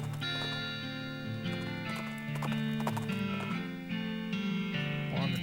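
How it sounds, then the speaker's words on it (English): Horse hooves clip-clop in a steady walking rhythm in the western video game West of Loathing, clear and close over a continuous musical backdrop. "Carefully navigate your horse across the treacherous waters."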